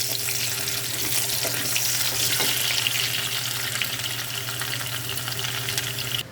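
Potatoes fry in a pan with a steady, close sizzle, a continuous crackling hiss that holds even throughout, with a low hum underneath.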